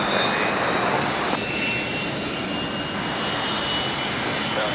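An airliner taking off from Brisbane Airport, a loud, steady roar of jet engines sustained throughout with a broad rushing wash.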